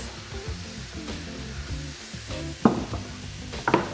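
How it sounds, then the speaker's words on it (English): Chopped bell peppers saute in a pan for a vegan lentil loaf, a soft sizzle under quiet stirring, with a couple of sharper utensil clinks near the end. "just saute that now for about 7 to 10 minutes until they're nice and soft"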